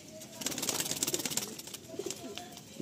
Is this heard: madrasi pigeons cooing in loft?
yes